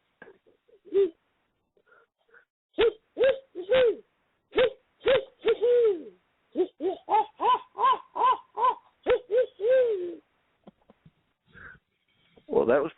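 A man imitates a barred owl with his voice, a rhythmic series of hooting calls in quick bursts, close and clear with brief pauses between phrases.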